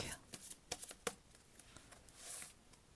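Tarot cards are shuffled and drawn at close range: a series of quick, soft riffling clicks and snaps, followed by a brief, smoother sliding swish near the end, all quiet.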